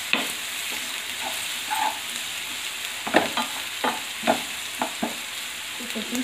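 Green chillies frying in a home pan while being stirred, a steady oil sizzle broken by sharp spatula scrapes and clacks repeating roughly every half second in the later part, close and fairly loud.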